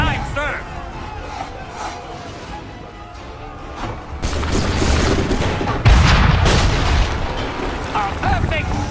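Musket volleys ring out in an Assassin's Creed 3 battle against redcoats, loud booms and crackling gunfire growing heavier in the second half over shouting soldiers and game music, with voices talking throughout.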